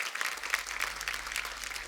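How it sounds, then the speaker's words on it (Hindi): A studio audience at a comedy talk show claps in dense, steady applause that lasts the whole short moment, close and fairly loud, with no talking over it. "तारे इतनी ताली बजाने की क्या जरूरत है?"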